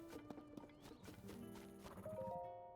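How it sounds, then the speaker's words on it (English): Horses in the video game Tears of the Kingdom give several neighs and whinnies over a few hoof clops, faint but clear, with a light musical background. "These horses are quite the charmers, eh?"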